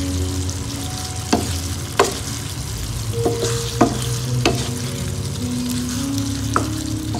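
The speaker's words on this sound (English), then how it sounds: "I'm just going to give it a gentle stir." Egg curry with potato and green peas gets a gentle stir in the pan, steady sizzling and simmering under a few soft spoon scrapes and taps, close and without talk.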